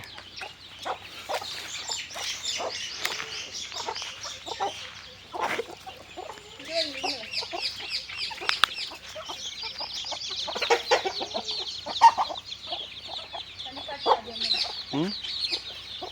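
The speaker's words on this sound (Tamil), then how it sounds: "இது இப்போ கடைசியாக வாங்கின சேவல் மயில் கருப்பு சேவல் நல்ல ரகம்" Chickens and a black Mayil Karuppu rooster cluck and chatter continuously at close range, a busy, layered flock sound with a few louder squawks and no talking.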